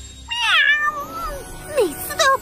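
Animated white bobtail cat meowing in a cartoon: two or three drawn-out, rising-and-falling meows, close and loud, with a short sharper cry near the end.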